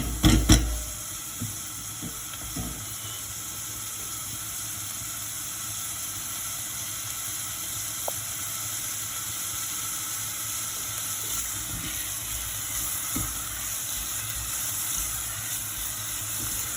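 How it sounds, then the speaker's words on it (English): Onions gently softening in a pan as the base for mussels provençale, a steady low sizzle and hiss running evenly throughout with a faint clatter at the start, no voices over it. "So we just need to soften the onions"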